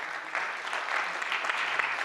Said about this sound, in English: Yes, an applause is in place.